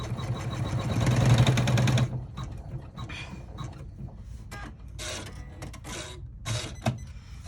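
An embroidery machine stitches an eyeglass case with a steady, fast mechanical hum and rapid needle rhythm for about two seconds, then stops, leaving quieter handling clicks and rustles.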